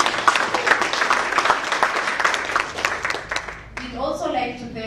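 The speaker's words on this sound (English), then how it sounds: "If you could please give them a clap." A conference audience at a closing session gives several seconds of dense, steady clapping. It then fades as a speaker's voice takes over.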